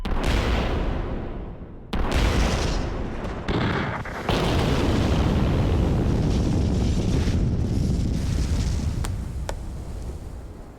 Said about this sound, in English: This is one of the loveliest shots of an explosion I think that we have ever gotten